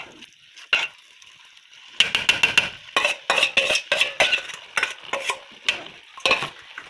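Chicken biryani being stirred and mixed in a pot over lowered heat: repeated scraping, clinking strokes of a spoon against the metal in an irregular rhythm, close and fairly loud, with a soft sizzle underneath.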